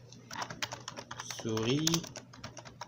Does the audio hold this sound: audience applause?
no